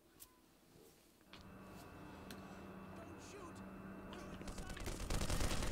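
Gunfire in the video game Black Mesa rattles in rapid, sustained bursts that swell louder toward the end, mixed with game sounds and a voice talking over it.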